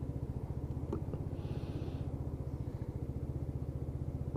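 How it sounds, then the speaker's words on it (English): A Lexmoto Titan motorcycle engine idling cold at about 1500 RPM, a steady, rapid, close-up thumping pulse that continues alone throughout, with a brief sharp noise at the very end. "I'm idling about 1500 RPM, so engine's still a little bit cold."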